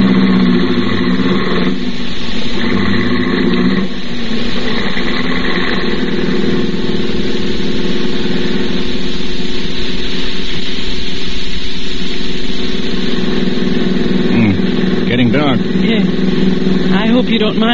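A car engine from an old-time radio drama runs steadily under the dialogue, a low continuous motor drone behind close voices.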